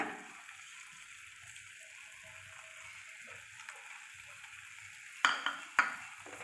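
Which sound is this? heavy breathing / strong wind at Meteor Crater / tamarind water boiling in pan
tamarind water boiling in pan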